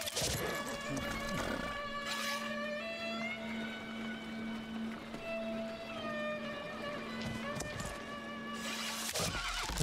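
A horse whinnies in the strategy video game Old World, a long bright neigh over steady game ambience and music, with clopping sounds at the start and end.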